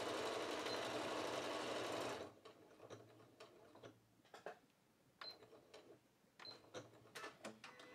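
An Elna 680+ sewing machine stitching a decorative pattern at maximum speed with a 5.5 mm stitch width: a loud, dense mechanical whir for about two seconds, then stops, followed by quieter clicks and ticks of the mechanism.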